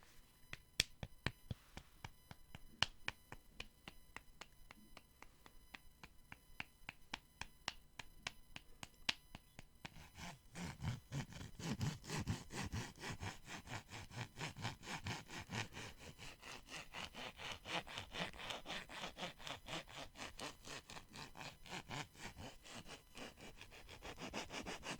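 Shoes rubbed together up close in a quiet ASMR setting, a steady, rhythmic scratchy scraping that fills the second half after a sparser stretch of soft taps and clicks.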